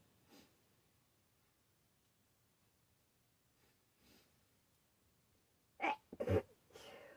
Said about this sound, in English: Okay, a series of sneezes.